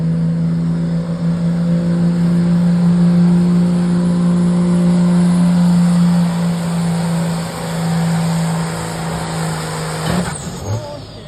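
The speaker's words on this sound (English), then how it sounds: "here's Mike Monteleone in a beautiful Cummins powered Dodge." A Cummins-powered Dodge pulling truck at a truck and tractor pull holds a loud, steady, high-revving engine drone for about ten seconds. The roar then cuts off abruptly near the end with a short sputter.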